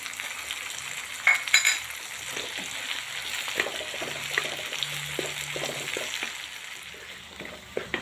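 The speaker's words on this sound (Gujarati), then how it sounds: "પનીર નાખ્યું છે આપણે અને 2 મિનિટ શેકાવા દઈશું" Homemade paneer roasting in a pan for butter corn bhurji gives a steady sizzle and crackle, with occasional scraping and stirring sounds and a small clink near the start.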